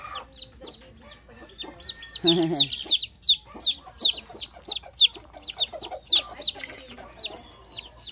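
Native chicks peep in rapid, high, repeated chirps, close by and continuous throughout, with a person's voice briefly mixed in near the middle.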